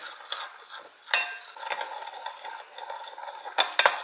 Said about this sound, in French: on va venir fouetter la sauce jusqu'à ce qu'elle soit bien homogène